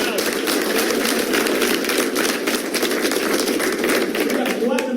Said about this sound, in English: All Platinum, wow, big hand clap.